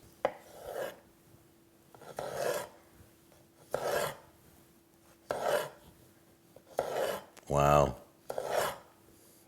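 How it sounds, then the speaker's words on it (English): A sharp knife slices through an overly ripe, wrinkly-skinned tomato in a series of six distinct rasping strokes spaced about a second and a half apart, close and fairly quiet, with a brief spoken exclamation near the end. "I'm gonna finish the cut. It's an overly ripe tomato"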